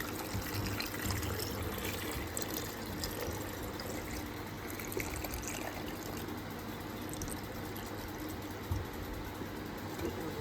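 Salt water is poured into a container of mangoes being stored, giving a soft, continuous trickle and splash that stays faint and even throughout.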